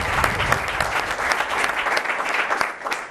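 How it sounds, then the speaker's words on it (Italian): Applause from an audience at an Italian gymnastics federation event, dense and steady clapping throughout a short stretch. "un applauso anche a lei"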